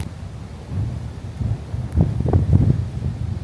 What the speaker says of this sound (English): It is extremely windy out today.